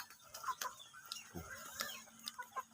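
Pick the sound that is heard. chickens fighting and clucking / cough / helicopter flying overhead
chickens fighting and clucking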